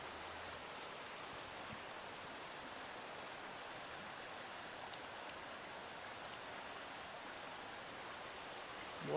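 A river runs high beside a big rock at a trout fishing spot, its steady broadband rush continuous and fairly distant, with no voices over it.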